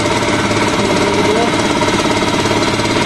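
An impact wrench works on the crankcase screws of a Kawasaki HDIII engine during an overhaul, a loud, dense rattling hammer-buzz that runs without pause, close to the microphone.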